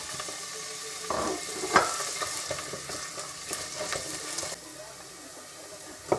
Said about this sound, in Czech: Olej máme rozehřátý a na oleji si spěníme cibulku, jemně nastrouhanou,